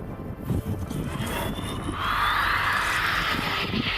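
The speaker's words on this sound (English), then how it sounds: "During a military air show, this fighter jet nearly crashed after the pilot oversteered right after landing." A fighter jet lands at a military air show, its engine roar swelling from a distant hum into a loud, rising whine over a few seconds.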